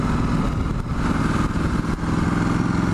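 A Ducati Multistrada 1260S twin-cylinder engine runs with a deep, throbbing, continuous rumble, steady and close with slight pulsing, no voices over it.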